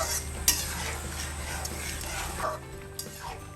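Raw mango pickle stirred gently in a pan, a continuous sizzling bubble with soft scraping strokes and a few sharp utensil clicks, close and steady throughout.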